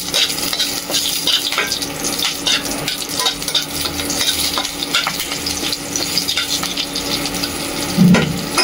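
Bay leaf and green chillies crackle in hot oil as they are stirred in a pan for a Bengali fish and drumstick curry, a loud close sizzle with constant scraping.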